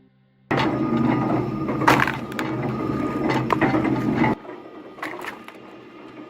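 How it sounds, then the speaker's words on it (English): Homemade log-splitting machine cutting tree branches up to three inches thick, a loud mechanical grinding and clattering with sharp cracking bursts, cutting off abruptly partway through before a quieter ratcheting tail. "This homemade machine not only splits logs, but also cuts branches up to 3 inches thick"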